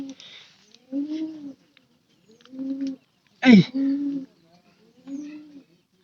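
A pigeon that drinks water coos repeatedly in low, rounded phrases at a steady pace, close by, with a sharp rustle or flap breaking in midway.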